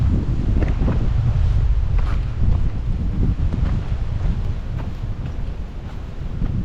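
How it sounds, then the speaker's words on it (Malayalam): Cold wind blows hard across a mountain trail on the way to Agasthyarkoodam, a constant loud rushing roar with heavy buffeting on the microphone and no talking. "തണുത്ത കാറ്റുണ്ട്"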